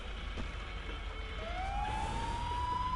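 A police car siren from the GTA Online video game wails with a rising tone that climbs and sustains, set over a steady background rumble of traffic, with no talking.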